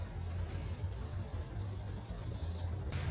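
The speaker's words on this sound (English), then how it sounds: "Did you hear that? Cicada?" A cicada buzzes close by outdoors, a steady, piercing high-pitched drone that holds strong for most of the clip before cutting off abruptly near the end, with low rumble underneath.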